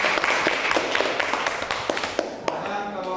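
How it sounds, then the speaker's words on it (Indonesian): Students in a classroom applaud, a lively patter of many hands clapping at close range with scattered sharper claps and a bit of voice mixed in. "Oke, tepuk tangan luar biasa."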